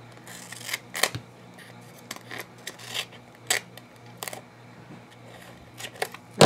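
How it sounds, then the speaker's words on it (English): Scissors cutting paper for a small handmade accordion book, giving a string of sharp, close snips at an irregular pace, with quiet gaps and a louder cut at the very end. "Then I took scissors, and I use these because the sticky comes off of these."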